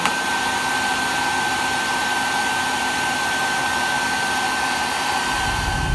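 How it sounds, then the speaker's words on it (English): Electric fan running at a bee hive removal job, a steady loud whirring drone with a constant hum, continuous and unchanging throughout, with no voices. "Electric fan right there."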